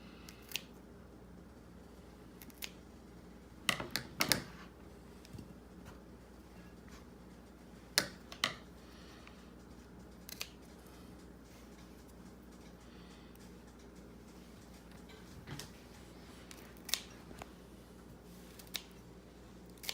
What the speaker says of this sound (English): Yeah, the scissors work a lot better.